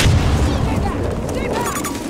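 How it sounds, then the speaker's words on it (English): A grenade explosion in Battlefield 2042 booms as a low, rumbling blast among ongoing battle noise, with scattered shots and debris crackle. A voice talks briefly over it. "Grenade going out."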